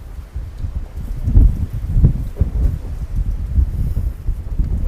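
Strong gusts buffet the microphone in a small inner courtyard on Corfu, Greece, in low, rumbling bursts that rise and fall over several seconds, with no voices.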